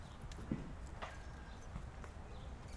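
A grey horse is trotted on a hard surface at a sale presentation, with a few soft, irregular hoof clops sounding faint and somewhat distant against low ambient noise.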